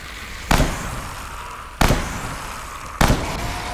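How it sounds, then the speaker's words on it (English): Three loud, sharp rifle shots fired at zombies in the video game Dead Frontier 2, evenly spaced about a second apart, each with a short echoing tail over a steady ambient hum. "6 bullets to the head with the rifle."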